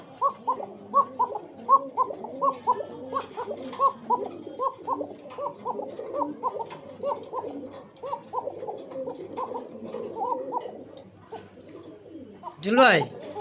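Pigeons cooing steadily in a dense overlapping chorus at a Bangladeshi pigeon market selling racer and other fancy breeds, close and continuous, with a few faint background voices and a brief sharp noise near the end.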